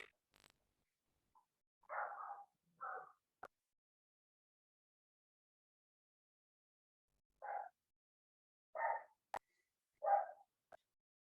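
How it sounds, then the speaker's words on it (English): A few short dog barks and yips, faint and spaced apart, with a couple of sharp clicks between them in an otherwise quiet room. "I wonder if you study dogs barking enough, you can tell if they are barking to just bark"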